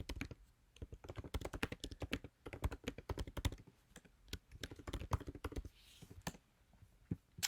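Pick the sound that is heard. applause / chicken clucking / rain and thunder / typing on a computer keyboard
typing on a computer keyboard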